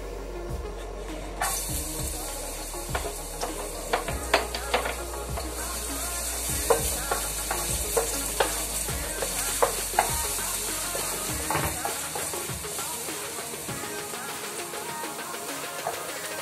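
Garlic frying in heated oil, a faint, continuous sizzle broken by scattered light clicks and taps from stirring, with no talking.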